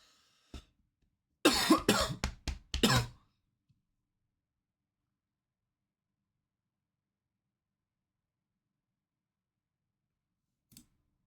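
A person coughs several times in a quick, harsh burst after a short single cough, then falls silent apart from a faint click near the end.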